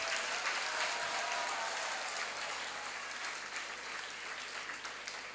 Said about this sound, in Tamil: கரஸ்பாண்டன்ட்டுக்கு நீங்கள் மிகப்பெரிய கைத்தட்டல் கொடுக்க வேண்டும்